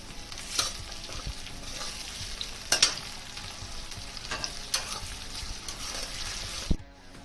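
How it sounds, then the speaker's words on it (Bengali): Steady sizzling of tomato frying with onions in oil, with occasional stirring scrapes and bursts of spatter, loud and close, before cutting off near the end. "এবার আমি টমেটোটা দিয়ে দিলাম।"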